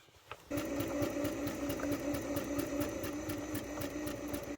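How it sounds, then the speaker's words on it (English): A sewing machine runs steadily, stitching a pant leg shut, with a fast even mechanical whir and clatter that starts abruptly and keeps going close by, no voices. "I turn this pant leg inside out, now I'll sew this shut."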